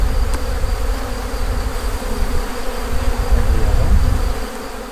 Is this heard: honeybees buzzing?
yes